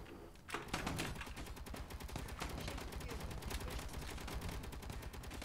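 Sustained rapid gunfire from enemy guns in the Space Engineers video game, a dense continuous rattle of automatic shots that starts with a loud burst and keeps going steadily throughout.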